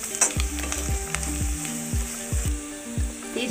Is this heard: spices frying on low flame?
yes